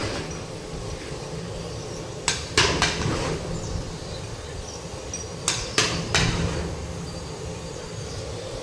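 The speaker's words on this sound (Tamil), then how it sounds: "நம்ம கொஞ்சம் கிளறி விடணும், இல்லைன்னா அடி பிடிக்க ஆரம்பிச்சிடும்" Large pot of vegetable biryani rice being stirred for a temple food offering, with scraping metallic clanks in two clusters over a steady low rumble of burners.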